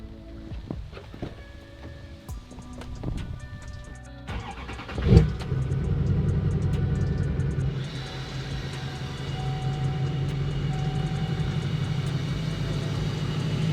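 A Duramax diesel pickup truck with an engine warning light pulls away and drives, a sharp thump near the middle giving way to a steady, fairly loud engine and road drone that continues to the end.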